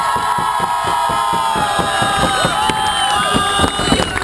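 An audience bursts into loud, rhythmic applause and cheering, steady clapping beneath shouts and whistles from a close, energetic crowd.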